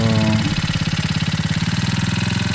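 A small grass cutter engine sputters into life after a choked start and settles into a fast, even idle putter, close and fairly loud with no talking.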